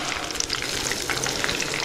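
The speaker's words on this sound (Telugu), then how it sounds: "సన్నగా తరుక్కున్న ఉల్లిపాయ ముక్కల్ని ఇందులో వేసేసుకుంటున్నాను" Thinly chopped onions drop into hot oil already holding tempering spices for a village-style mushroom curry, giving a steady, close sizzle and crackle with no talking.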